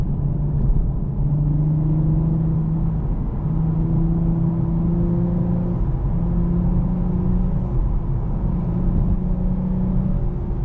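A 2024 Lexus IS 350 F-Sport engine in manual mode hums and rises steadily through repeated acceleration, a deep grunty rumbling drone heard from inside the cabin.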